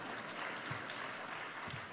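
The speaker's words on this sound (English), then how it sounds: "I'm always happy to get applause." Faint, steady applause from a large audience in a hall at a climate action summit, an even wash of clapping heard from a distance.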